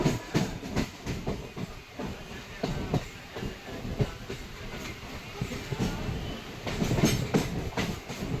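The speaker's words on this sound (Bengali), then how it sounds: "আমি ট্রেনে উঠে পড়েছি।" A moving local train rumbles along from inside a carriage, with steady rolling noise and repeated rhythmic clacks from the wheels over the track joints, fairly quiet and even.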